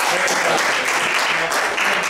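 Conference audience applauding a student esports panel, loud dense clapping that stays steady and strong across the whole stretch with no speech over it.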